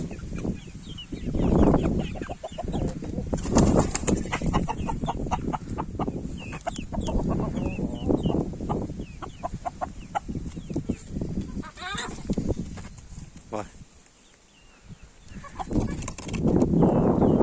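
Several chickens cluck close by in a yard, with bursts of clucking and short calls coming and going, fading briefly before rising again.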